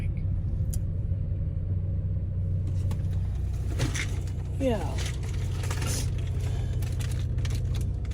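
An old car rumbling while driving, a steady low engine drone and road rumble heard from inside the cabin, with someone briefly talking and some rustling over it.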